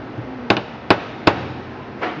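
Three sharp metallic taps from a small hammer on a Stromberg carburetor on an MG, evenly spaced about a half second apart, followed by a softer fourth tap, close and fairly loud.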